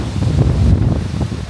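Strong wind sweeps across an open Baltic Sea coastline, buffeting the microphone with a loud, steady roaring rumble that surges and eases without pause; no one speaks.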